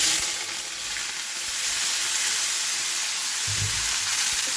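Ridge gourd frying in hot oil with a nigella seed tempering, a steady loud hiss of sizzling with a brief low thump near the end, close by.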